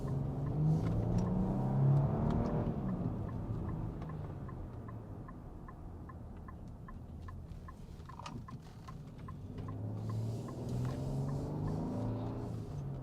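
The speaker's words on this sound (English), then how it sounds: "gliding over speed bumps as we set out here in the 2025 Infiniti QX80" Cabin of a 2025 Infiniti QX80 full-size SUV driving over speed bumps, with a steady low road and engine rumble that swells at the start and again near the end.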